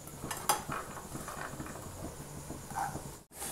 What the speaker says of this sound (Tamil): பிரண்டையை இது மாதிரி நெய்யில் போட்டு வறுத்து எடுத்துக்கணும்.